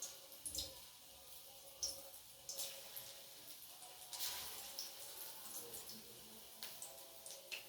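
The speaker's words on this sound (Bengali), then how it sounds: "এবার আমি ছোট্ট ছোট্ট করে পকোড়ার মতন করে আমি তেলের মধ্যে দিয়ে দেবো।" Small pakora-style pieces of batter dropped into hot white oil, giving a faint, steady sizzle with scattered soft pops and crackles.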